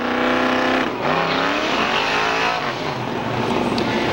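Drag racing cars, a Chevy Camaro and a 1971 Mercury Cougar, at Seekonk Speedway: a loud, steady engine roar with rising harmonic revs and some tire noise, continuous throughout.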